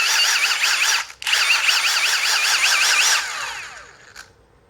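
A Milwaukee M18 power tool, back from warranty repair, whines loudly and steadily with a warbling pitch and one brief dip, then its electronic brake winds it down to a stop with a faint tick after.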